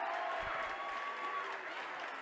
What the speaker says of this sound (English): grant a round of applause to the exiting Trojans, led by KJ Torbert's 39 points.